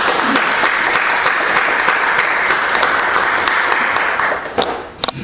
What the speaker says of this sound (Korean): 우리 하나님께 영광의 박수를 드리기 바랍니다.